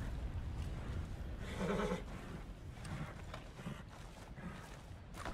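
A horse in Red Dead Redemption 2 gives a short neigh amid creaking tack and soft hoof clatter in a game scene, moderately quiet with no talking.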